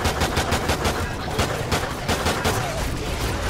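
Rapid continuous gunfire rattles loudly and steadily throughout, dense bursts of automatic weapon shots with no pauses, in Call of Duty Extinction mode.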